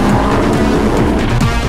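Pre-1982 race cars accelerating off the grid together, loud roaring engines with rising pitch sweeps as gears climb and cars pull away, a dense mixed blare of several motors close by.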